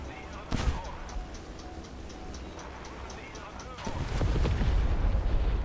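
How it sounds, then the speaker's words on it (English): Bombs dropped in a video game burst in a sharp blast early on, then a heavier rumble of detonations builds and rolls through the second half, with a faint steady ticking running beneath. "Alright, time to drop all my bombs."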